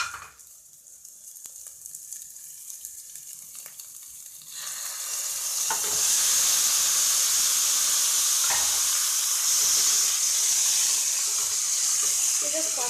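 Marinated chicken for chicken pulao hits a hot pan: quiet kitchen rustling first, then a loud, bright, sustained sizzle swells up and holds steady through the rest.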